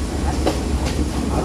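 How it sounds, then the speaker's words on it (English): A train rolls slowly along rails near tunnel construction work, giving a steady low rumble with faint wheel clatter throughout, fairly close and without speech. "Because the train is going slowly and the workers are looking at it."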